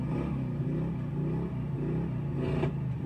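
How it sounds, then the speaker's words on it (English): A Pontiac Firebird engine runs with a steady, rough rumble like a demolition derby car, low and continuous with no talk over it. "Sounds like a derby car,"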